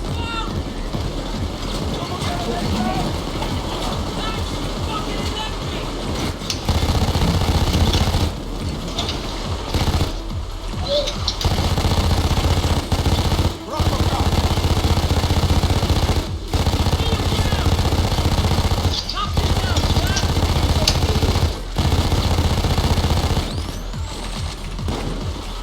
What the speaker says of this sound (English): Doing the best I can with a chainsaw, man.